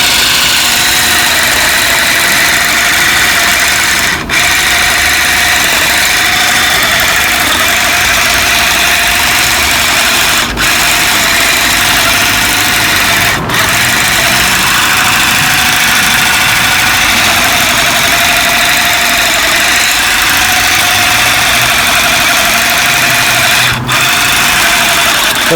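A Black+Decker cordless hand shrub trimmer cutting overgrown growth: a steady motorized drone runs continuously, loud and close, with a few brief cutouts as the safety button is released before it starts up again.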